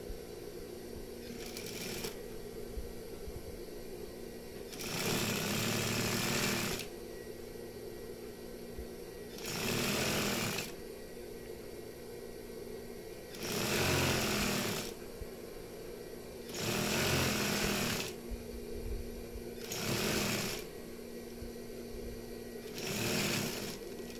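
A sewing machine stitches a half-centimetre seam in fabric for a baju koko shirt. It runs in six loud mechanical bursts of a second or two each, separated by quiet pauses with a faint hum.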